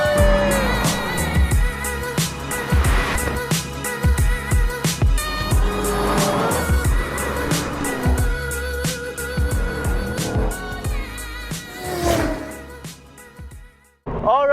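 A 2013 Subaru BRZ S on an E85 tune drives past loudly, its engine note rising and falling through several revving pulls and shifts before cutting off abruptly near the end.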